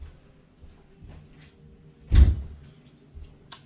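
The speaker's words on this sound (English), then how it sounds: "Hang on 1 minute, I'll shut the door." A door is shut once in a quiet kitchen, giving a single solid thud that stands out from the low room hum, followed by a faint knock a second later.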